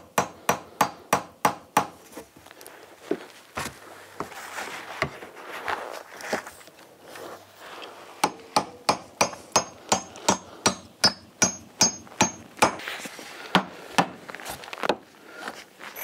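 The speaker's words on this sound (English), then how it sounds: "this is just a 12-ounce hammer anyway, so that's probably not the best for framing" Sharp 12-ounce hammer strikes nailing wood framing in quick bursts, a rapid run of blows, a pause with light handling noise, then another steady series of close, ringing hits.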